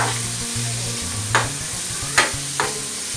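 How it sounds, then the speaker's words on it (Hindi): Green chillies and vegetables frying in a pan for an aloo samosa filling, a steady close sizzle with a low hum beneath and three distinct spoon scrapes against the pan. No one speaks. "फ्राई हो रही है हमारी चीज़ें।"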